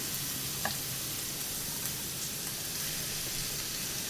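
Sliced capsicum frying with softened onions in a pan, a soft, even sizzle with one faint clink of a spoon early on and no voices.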